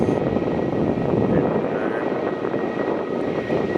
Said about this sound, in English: we have the Qantas 737 now taking off from a longer departure